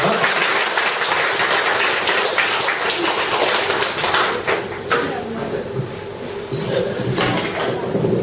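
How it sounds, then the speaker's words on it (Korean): Audience applause for a visually impaired professor taking the stage at an evening event, dense and steady clapping throughout, briefly thinning midway before swelling again, with faint voices underneath. "우리 박수로 한번 크게 맞춰보도록 하겠습니다."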